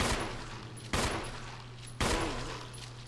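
Handgun fire in the Resident Evil remastered video game, three sharp shots about a second apart, each ringing out with a short decay, no talk.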